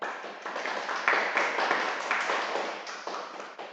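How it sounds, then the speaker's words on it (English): Steady applause from a webinar audience at an awarding ceremony, a soft continuous patter of clapping at moderate level with slight swells, no voices over it. "You can applaud if you would like to."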